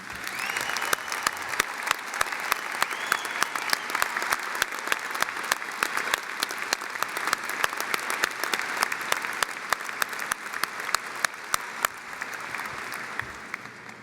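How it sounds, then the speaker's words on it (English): Sustained applause from a large commencement audience at a Nebraska undergraduate graduation honoring 4.0 GPA graduates, dense steady clapping filling the hall for about fourteen seconds without a break. "Will these students please stand and receive our applause?"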